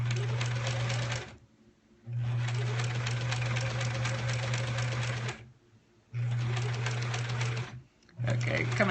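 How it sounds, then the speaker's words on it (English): A sewing machine stitches a quilt block in three long runs separated by short pauses, a steady close whirring hum from start to finish with brief silences between runs. "Let's sew."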